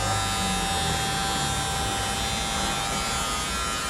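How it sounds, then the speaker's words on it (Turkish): An electric shaver buzzes steadily at a barber shop, a constant close hum that runs unbroken from start to finish with no speech. "Şimdi sen tıraş ediyorsun."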